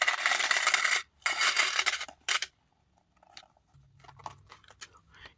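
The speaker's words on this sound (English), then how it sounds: "Coins going into our coin challenge jar." Coins are emptied from a pouch into a coin jar, a loud close burst of clinking metal in two rushes, followed by a few sparse, fainter clinks and small handling sounds.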